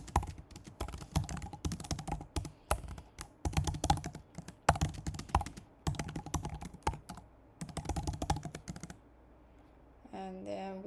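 Code being written on a computer keyboard gives quick, uneven bursts of key clicks with short pauses, close and moderately loud, before the typing stops and a brief tonal sound follows.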